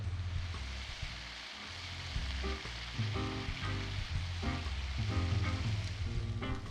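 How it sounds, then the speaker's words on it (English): Crab being stir-fried with oyster sauce and soy sauce for a Cantonese dish, a steady close sizzle broken by repeated spatula scrapes and tosses in the pan. "stirring well."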